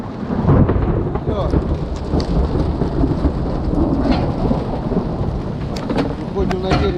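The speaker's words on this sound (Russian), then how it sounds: "Град, натуральный град, вот где-то от горошину, гроза." A spring thunderstorm on the Pechora river with pea-sized hail and heavy rain, a loud continuous downpour with rumbling thunder; one brief spoken word.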